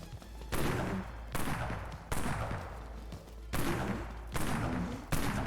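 A Pierce Shot weapon fires in the video game Dead Frontier, loud booming gunshots repeating roughly every second with long decaying tails, no voices over them.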